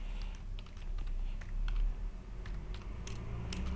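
Someone types code on a computer keyboard for a programming exercise, with irregular clicky keystrokes in short bursts and pauses, close and fairly quiet, with no voice.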